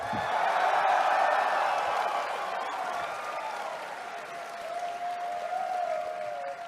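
Studio audience applauds steadily for several seconds, fairly close, with a brief whoop near the start, a few scattered cheers, and a faint tone sounding underneath as the clapping fades a little.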